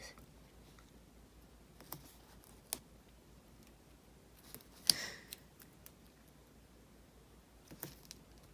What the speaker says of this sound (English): Then I'm gonna cut this, and we're gonna not try to cut through the paper.